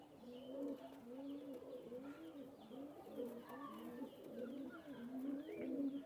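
Several Teddy pigeons coo in soft, repeated rolling calls, overlapping at moderate distance, with occasional faint chirps from other birds.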